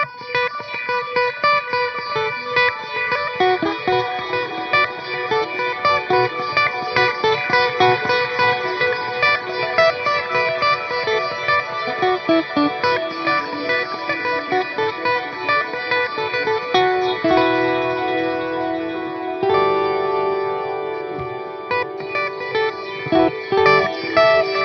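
Electric guitar played through a Boss Tera Echo TE-2 pedal, jangly chords ringing with a long shimmering echo tail, steady strumming throughout with a change in texture near the end.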